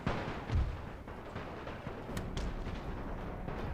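Artillery firing in The Great War strategy game, heard as a dull low boom and rumbling bursts under a constant dense noisy background, with no speech.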